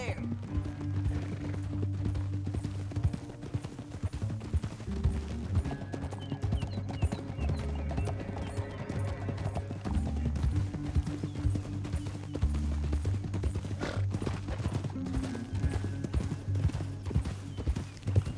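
Horses gallop with steady clip-clop hoofbeats in the video game Red Dead Redemption 2, a dense rhythmic drumming under a low musical score, with a voice speaking over the ride and an occasional whinny.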